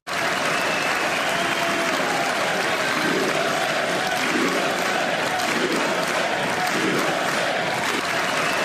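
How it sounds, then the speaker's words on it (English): Congress members at a State of the Union address fill the chamber with loud, dense applause and crowd noise, a sustained roar with rhythmic swells that may be chanting. "the entire chamber is chanting USA"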